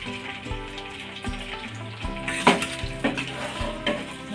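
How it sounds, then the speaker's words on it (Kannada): Cooked mutton tipped into hot oil with fried pulao masala sizzles steadily up close, with metal spoon stirs and clinks against the pan over the crackling fry. "ಈಗ ನಾನು ಮಟನ್ನ ಬೇಯಿಸಿರೋಂಥದ್ದನ್ನೇ ಹಾಕೋತಾ ಇದ್ದೀನಿ ಡೈರೆಕ್ಟು."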